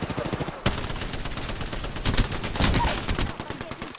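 Rapid automatic gunfire in the Apex Legends shooter game, dense bursts of shots continuing almost without pause, with faint voice chat underneath.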